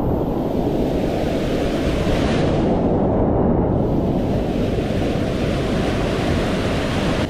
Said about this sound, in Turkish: bir tane şelale burada akıyor abi